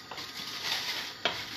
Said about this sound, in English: give my pan a stir